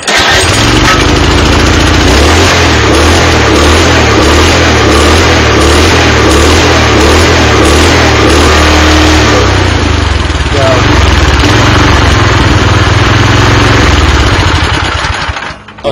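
Small tiller engine running steadily and loud close by after being started with the choke set, a constant mid-pitched drone that holds for the whole stretch with no pauses.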